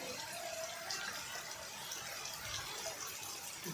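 Water runs from a tap and fills a container, a steady faint gushing wash with no speech over it.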